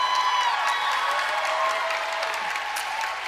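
Steady applause and some cheering from a concert crowd at the Wiltern theatre after a song, sustained and full throughout, with no one speaking.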